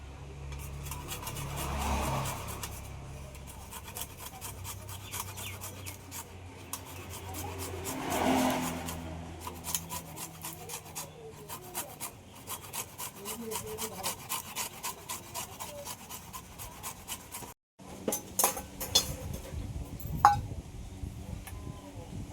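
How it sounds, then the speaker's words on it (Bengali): Ripe mango being grated, producing steady rhythmic rasping strokes at close range with a brief pause before the scraping resumes. "এক থালা আম গ্রেট করে নিয়েছি"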